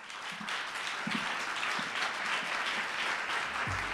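Sustained applause from an audience after a slam poet's performance at a European slam poetry championship, a dense steady wash of clapping filling the room for the whole span, with a few low thumps underneath.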